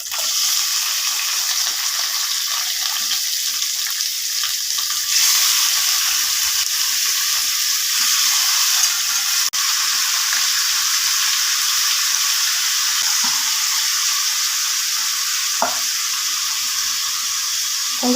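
Chicken sizzles and fries steadily in a pan for a spicy gravy, with milk and curry leaves added, a continuous close hiss with faint stirring scrapes and no talk.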